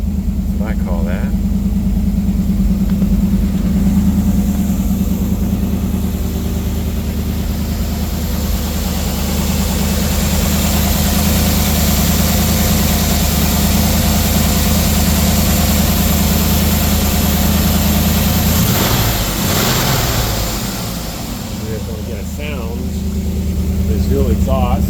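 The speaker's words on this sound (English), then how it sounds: "Dual exhaust." A 1958 Ford Fairlane 500 Skyliner retractable with a 312 V8 idles steadily through its dual exhaust, a loud, continuous low rumble that holds even throughout, with a brief shift in tone near the end.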